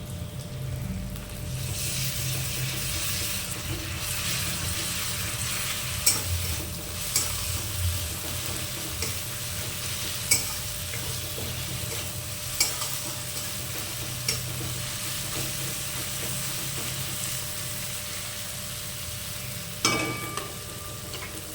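Ginger, garlic and green chilli paste frying in a pan for a rohu fish curry, a continuous crackling sizzle with periodic stirring clinks and scrapes, close and steady.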